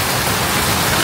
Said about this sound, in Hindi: धूप भी आ रही है और बारिश भी आ रही है